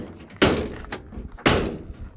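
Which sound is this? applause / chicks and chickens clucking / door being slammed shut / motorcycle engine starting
door being slammed shut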